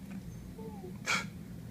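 One brief, breathy sneeze from a female dog performing on command, a short close burst standing out over a steady low hum, preceded by faint quiet sounds.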